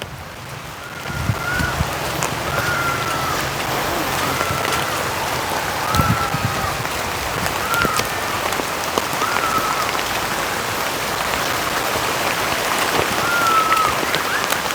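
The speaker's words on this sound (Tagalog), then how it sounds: "Lakas ng ulan dito ah." Heavy rain pours steadily on a surface during a rice harvest, a dense constant hiss with scattered drops and faint background tones throughout.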